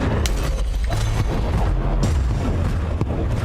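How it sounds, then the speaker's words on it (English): In the video game Sundered, a cannon fires again and again, sending dense, booming blasts in quick succession. The bursts are loud and close and fill the whole stretch without a break. "Like, why is it she can spam the cannon infinitely?"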